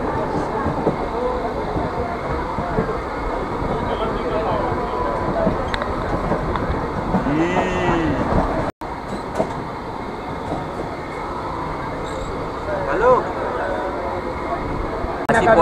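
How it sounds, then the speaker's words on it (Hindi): Onboard a passenger train crossing a station in Rajasthan, a steady rolling rumble of wheels on track with occasional faint squeals and clicks, a brief dropout midway, and someone talking over it. "तो फिलहाल हम लोग एक स्टेशन क्रॉस कर रहे हैं"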